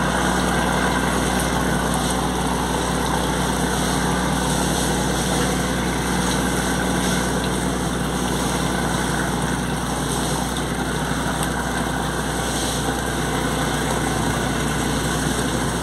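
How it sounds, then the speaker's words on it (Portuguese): Steady, loud low rumble of the 829 HP Yamaha engine aboard the motor ship Elizabeth IV, a continuous droning hum that holds unchanged throughout with no voices. "Ouça o ronco do motor"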